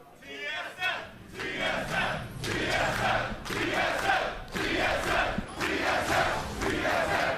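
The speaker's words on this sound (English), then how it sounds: "TSM chants always strong here." A packed esports arena crowd at a North American League of Legends playoff semifinal roars and chants for TSM in loud, rhythmic surges that rise and fall steadily without a break.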